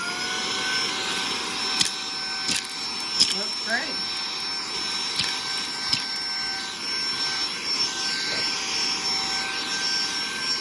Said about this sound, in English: So we're going to turn on vacuum.